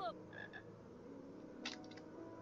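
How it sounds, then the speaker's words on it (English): A chocolate frog in the Harry Potter and the Philosopher's Stone video game croaking in short repeated calls over a low steady game ambience, moderately loud, with no speech. "I hear a frog. Where's the chocolate frog?"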